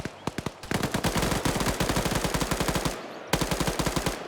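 Automatic gunfire in a PvP video game match: rapid, evenly spaced shots in several sustained bursts, loud and close, with a brief pause before a final burst.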